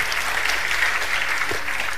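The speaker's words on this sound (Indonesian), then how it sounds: "Tepuk tangan untuk kebenaran ini." A church congregation at a Tuesday Bible service bursts into dense, loud applause that holds steady throughout the brief moment.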